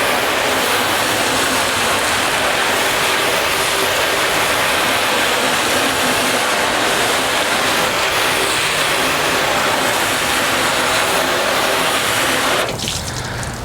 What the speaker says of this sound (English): let's rinse off this residue.